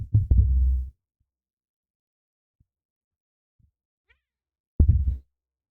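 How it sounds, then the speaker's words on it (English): A cat gives two short, close chirping calls separated by a few seconds of near silence with faint small taps. "Yeah, you don't meow anymore. You just chirp."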